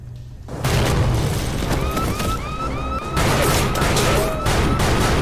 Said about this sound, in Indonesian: Tiba-tiba sebuah bom asap meledak di antara mereka berdua.